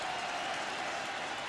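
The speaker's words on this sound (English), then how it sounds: "Crowd making some noise" A college football stadium crowd roars in a steady, broad wash of noise during a Stony Brook at Syracuse game, continuous and without distinct voices.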